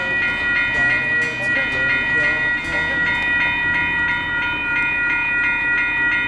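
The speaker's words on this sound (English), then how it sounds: "Right now, we're about to see a train." A train rumbles and clatters along the rails, loud and close, with steady tonal ringing above the rolling noise and a voice speaking intermittently over it.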